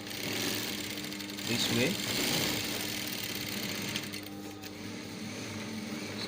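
A sewing machine stitches wine-colored fabric, a steady loud mechanical whirring hum with rapid needle clatter, running throughout while a person speaks briefly over it.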